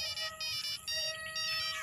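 A telephone ringtone chimes in a rapid electronic melody of short, bright tones, fairly faint and alone, with no talking.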